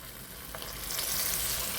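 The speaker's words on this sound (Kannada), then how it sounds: "ಈಗ ಬಿಸಿಯಾದ ಎಣ್ಣೆಗೆ ಇದನ್ನು ಬಿಡುವ" Steady, dense sizzle of chilli lollipop kebab pieces frying in hot oil, close and continuous and growing slightly fuller as more pieces go in, with no talking.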